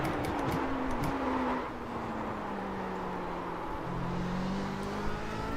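An HPD prototype race car in the iRacing video game at Laguna Seca, its engine note climbing and dropping through gear changes in a continuous loud whine, heard alone without talk.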